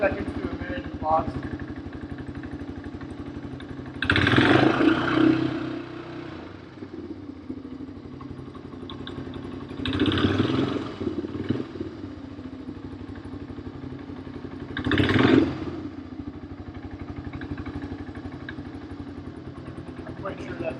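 A 1985 Honda ATC250ES three-wheeler idles steadily nearby with a low rumbling beat, rising into three brief louder revs spaced several seconds apart.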